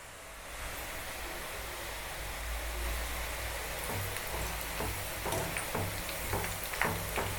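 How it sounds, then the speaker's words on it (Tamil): Ragi ribbon pakoda (murukku) fries in hot oil, giving a continuous soft sizzle with crackling bubbles that grow slightly busier toward the end; no one talks. "முறுக்கு வெந்துச்சுன்னா இந்த பபிள்ஸ் எல்லாம் அடங்கிடும்."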